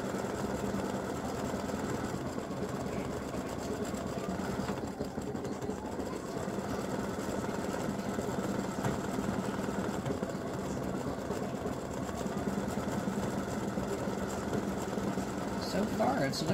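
An embroidery sewing machine stitching freestanding lace for gingerbread house earrings and ornaments runs with a steady, continuous mechanical whir and rapid needle chatter, close and unbroken throughout.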